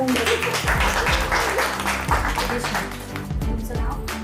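A women's group at a Marathi community gathering claps for a contestant, steady dense applause running throughout with voices mixed in beneath it.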